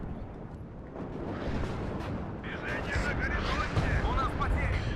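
Artillery fire in the WARNO war game rolls as dense, continuous booming and crackling rumble that grows louder and busier halfway through, with sharper bursts layered on top.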